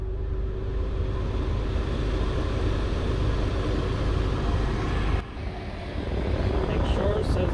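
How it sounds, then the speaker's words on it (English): A 2005 Honda Odyssey idling with the air conditioning on full blast, a steady low engine hum under a broad whooshing fan roar, continuous and close, with a brief dip near the end. "we're going to turn on our vehicle. Turn on your AC and put it on full blast"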